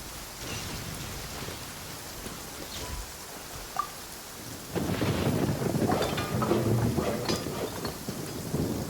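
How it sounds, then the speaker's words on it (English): Steady rain falls in Genshin Impact, with a sharp crack of thunder and then heavier rolling thunder and rain that swell loudly and continue to the end. "Oh, wait, it's just thunder and lightning."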